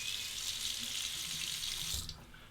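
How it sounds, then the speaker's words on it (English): Cold tap water runs steadily into a sink while a Razorine Flatboy razor loaded with a Feather blade is rinsed beneath it; the even rushing stream stays close and fairly loud, then thins out near the end. "I'm going to temper it under the cold water."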